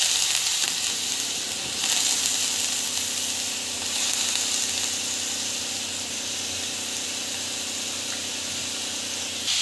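Raw green banana pieces sauté in a pan of thick spiced tomato paste, giving a steady, even sizzle and hiss that runs throughout with little change, close by and fairly loud, with no talking.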